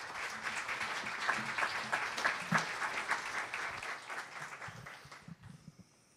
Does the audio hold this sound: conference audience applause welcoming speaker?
yes